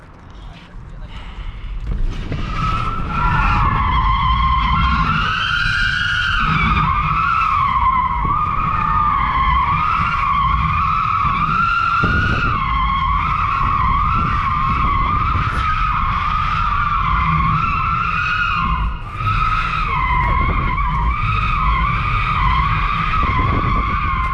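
Tesla Model 3 SR+ drifting with a sustained, loud tire squeal that wavers in pitch for over twenty seconds, close and continuous under a steady roar.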